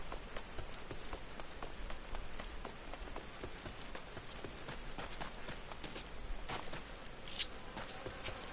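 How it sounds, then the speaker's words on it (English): Rain falls in the video game Final Fantasy XIV, a soft, steady patter of drops on surfaces with scattered sharper ticks, fairly quiet and continuous with no talk over it. "It's raining!"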